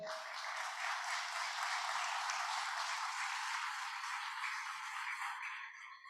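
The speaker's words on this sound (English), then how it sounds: "let's give them a round of applause for putting this on today?" An audience at a BOCES signing day event applauds career center staff, with dense, steady clapping that holds evenly for about six seconds before tapering at the end.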